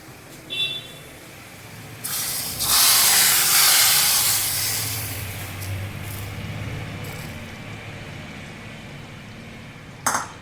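Hot oil tempering hisses and sizzles loudly as it is poured into fish curry with roasted ground coconut, a steady spitting crackle that slowly fades, with a light metallic clink at the start and end.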